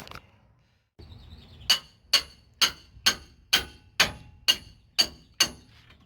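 A series of nine sharp metallic hammer strikes on the steering knuckle of a Ram 3500 pickup during tie rod replacement, evenly spaced and loud, each ringing briefly before the next blow.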